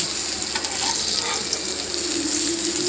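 Fish sizzles and crackles steadily in a hot pan after being flipped, a dense and continuous frying hiss that stays close and even throughout, with no voices.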